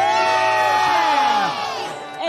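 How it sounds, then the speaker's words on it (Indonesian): Studio audience on the Eat Bulaga TV game show cheers and whoops loudly for contestant Elisa, a dense crowd roar over bright tonal music that eases slightly toward the end. "Tepuk tangan dong ini buat Elisa"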